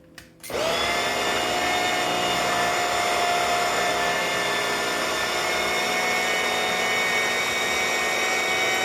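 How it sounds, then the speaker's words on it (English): A blender purees chickpeas for hummus, starting abruptly after a brief quiet moment and then running as a loud, steady, continuous motor whir for the rest of the stretch, with no voices over it. "We're gonna puree this until it's smooth."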